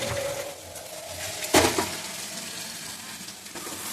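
Jute leaves (pat shak) drop into a hot pan and fry, with a sudden louder burst of sizzle followed by a steady hiss under faint background clatter, with no speech.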